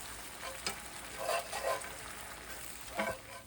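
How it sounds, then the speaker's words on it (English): A pan sizzles and hisses steadily while being deglazed with Riesling wine, with a few brief bursts of louder crackling as the liquid hits the heat; fairly quiet. "We are now deglazing with our Riesling."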